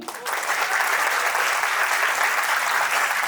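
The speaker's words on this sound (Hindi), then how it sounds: "पहले तो उनके लिए जोरदार ताली" Loud, sustained applause from an audience at a music video launch, a dense even roar of clapping throughout.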